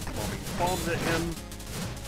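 Bomb blasts in the video game Shovel Knight, a cluster of crackling explosive bursts thrown at a flying enemy, loud and close, mixed with game music and effects.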